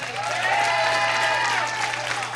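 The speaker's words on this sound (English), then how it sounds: "let's give them a round of applause" A crowd at a live wrestling event applauds and cheers in a dense, continuous wash of sound, with voices mixed in and a steady low hum underneath.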